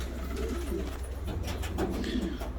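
Pigeons of the yellow silver-tail breed coo softly in a loft, making low rolling calls that repeat through the short stretch with faint rustling around them. There is no speech.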